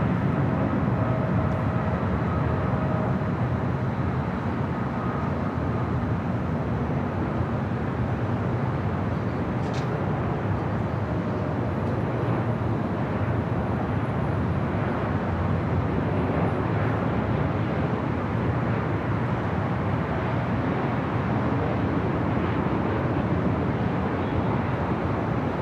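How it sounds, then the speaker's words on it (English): Korean Air Cargo Boeing 777 freighter taking off on the south runway at LAX, a loud, sustained jet roar of broad rumbling noise that holds steady for the whole stretch, heard from a distance outdoors. "The Korean Air Cargo 777 freighter taking off on the south side"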